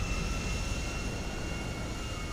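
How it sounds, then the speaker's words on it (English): An airplane engine in a video game gives a loud, continuous roar, steady and close throughout with no talk. "Oh, a plane just spawned."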